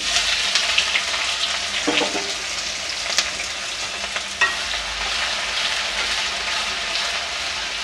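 Chopped onions sizzle steadily in hot oil as a tadka, frying until dark brown, a constant crackling hiss with occasional scraping stirs, and no talking.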